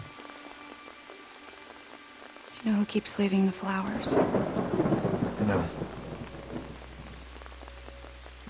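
Heavy rain pours in the video game Watch Dogs with rolling thunder rumbling under it, while two characters hold a short conversation over the downpour; the storm swells louder midway, then settles back.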